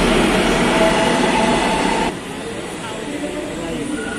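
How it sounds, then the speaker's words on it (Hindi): A metro train arrives at Ernakulam Town station in Kerala, India, with a loud, broad rumble of rolling wheels that eases to a quieter steady roar partway through. "और हमारा मेट्रो आ रहा है उधर से।"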